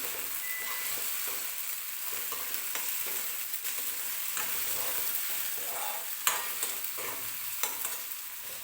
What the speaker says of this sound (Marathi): मी व्यवस्थित मिक्स करून घेते